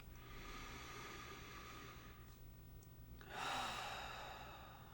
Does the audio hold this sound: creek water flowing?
no